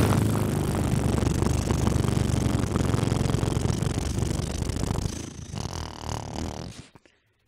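A steady, rumbling motorcycle engine idles close by for several seconds, then drops in level and fades to silence.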